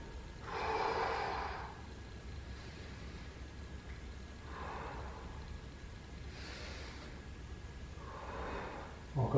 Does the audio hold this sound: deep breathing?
yes